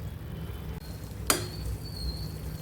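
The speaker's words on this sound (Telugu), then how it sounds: "ఇప్పుడు ఈ గంగవల్లి కూరను ఆయిల్లో బాగా ఫ్రై చేసుకోవాలి" Gangavalli leaves frying in oil, probably in a covered pan, giving a steady low sizzle throughout with one sharp tap or clink near the middle.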